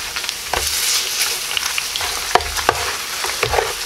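Honey garlic pork chops frying in a pan, a bright crackling sizzle close by with a few sharp pops and light stirring knocks, no voices.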